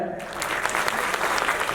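A loud, dense burst of clapping fills the hall at the title teaser launch of the Kannada film Pinaka, starring Ganesh, with steady overlapping claps swelling right after a brief quieter start, and voices mixed into the crowd.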